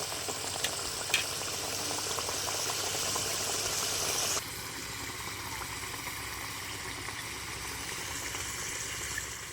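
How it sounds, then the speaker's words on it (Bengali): A pot of pomfret fish curry bubbles at a vigorous boil, giving a dense, steady bubbling hiss close by. It drops abruptly to a quieter simmer partway through and continues evenly without talk. "আরও 5 মিনিটের মতো আমি খুব ভালো করে ফুটিয়ে নেব"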